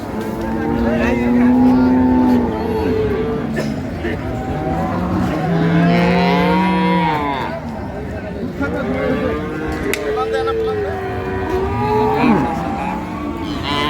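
Dairy cows and calves of an improved breed moo repeatedly at the Ambari livestock market in Dinajpur, several loud, drawn-out calls close by amid a busy crowd of voices and engine noise.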